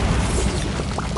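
A Bombarda blasting spell goes off in Hogwarts Legacy, a short, dense crashing boom with rubble-like clatter, loud and close, filling the whole brief moment.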